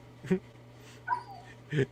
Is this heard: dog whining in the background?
yes